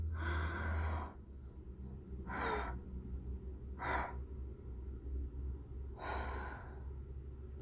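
Slow, deliberate breathing exercise with stacked inhalations, heard as four distinct airy breaths spaced about every second or two, close to the microphone over a steady low background hum, no talking.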